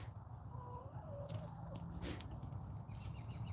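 Hens clucking softly near a farmer at a farm coop, a low steady murmur of fowl with a few brief higher calls, fairly close and without talk.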